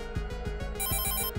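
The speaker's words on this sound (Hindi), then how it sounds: "किसी का फोन है।" A telephone rings in rapid repeating trills, loud and close, with no voices.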